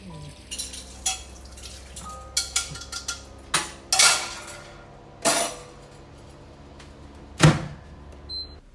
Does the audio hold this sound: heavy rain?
no